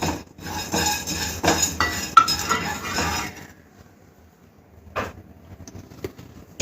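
Coriander seeds, cumin and black pepper dry-roast in a pan over medium flame, with a metal spoon scraping and clinking against it for a few seconds, then near silence broken by a couple of isolated taps.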